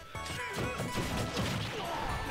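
A forward smash lands in a team match of Super Smash Bros. for Wii U (Smash 4) at a grand finals, a loud crunching impact burst over dense game effects and crowd noise.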